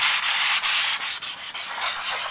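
Hand sanding of a repaired wall with green sandpaper produces close, hissing rubbing strokes in a steady rhythm, each pass separated by short dips, with no voices.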